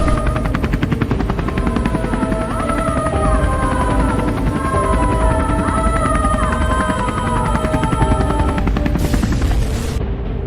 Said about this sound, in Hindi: गुल्ली जैसे ही हेलीकॉप्टर उड़ाता है और थोड़ा ऊपर जाता है